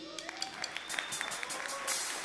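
An audience at a live band concert claps and cheers in a lively burst, with scattered whistles and voices mixed into the applause.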